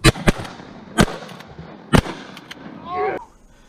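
Shotguns fire at ducks during a Southeast Oklahoma duck hunt: four sharp, loud blasts spaced about a second apart, followed by a brief voice.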